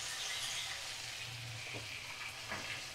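Ginger garlic paste sizzles in a pan over medium flame, with a brief steady frying hiss and occasional scrapes of stirring, close and fairly quiet.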